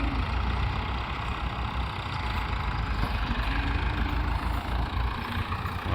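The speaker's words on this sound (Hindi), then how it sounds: "ट्रैक्टर पहुँच गया अगले मत्थे ते" A tractor engine idles close by, its steady low chugging rumble continuous and even throughout, with no voices.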